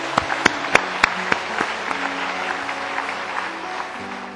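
A church congregation claps at a missionary send-off service in 2006. A few sharp, loud claps ring out first, then softer scattered clapping continues under a low murmur.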